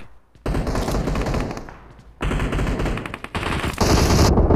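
Automatic gunfire in the mobile game PUBG Mobile rattles out in loud, rapid bursts, broken by short pauses, with several sustained volleys close up.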